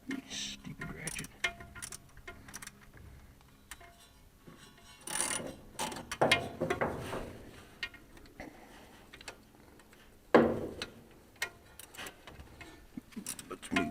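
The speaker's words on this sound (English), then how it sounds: "Come on, you stupid ratchet." Ratchet wrench clicking while working bolts on the governor of an Oliver 525 tractor, with scattered mechanical ticks and clanks at close range, mostly faint and irregular, plus a brief louder burst near the end.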